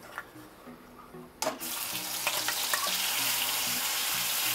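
Ground masala paste hits hot oil with bay leaf for a chicken gravy: after a quiet start, a sudden loud burst of sizzling and spitting settles into a steady, dense crackle.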